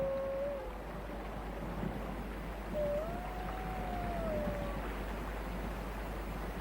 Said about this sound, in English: The pack is spread out, but keeps in touch by howling from time to time.